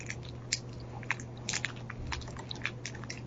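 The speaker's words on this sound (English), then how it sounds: "How bad's my crunching getting on your nerves?" Close, quiet crunching of Skittles candy, a series of irregular crisp bites and chews over a low steady hum.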